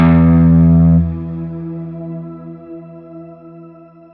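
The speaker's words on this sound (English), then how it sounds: "as the reverb comes back to you again and again, you're going to hear that same note" A loud sustained guitar chord rings out through a Quad Cortex reverb with octave pitch shift, decaying into a shimmering tail with faint higher octave tones swirling through it.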